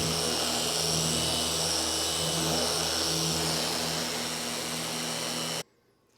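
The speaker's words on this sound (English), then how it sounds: "Sand this thing down." A power sander works over a hand-carved, router-cut wooden sign painted flat black, with a shop vac hooked up. It makes a loud, steady whine with a droning hum that runs without a break and then cuts off abruptly near the end.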